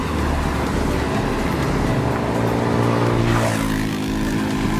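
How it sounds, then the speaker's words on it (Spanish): Loud, continuous roadside traffic noise from passing cars and motor vehicles, a heavy engine drone with a vehicle sweeping past close by partway through. "Aquí en la orilla de la calle cuesta grabar por la cuestión de la bulla de los carros"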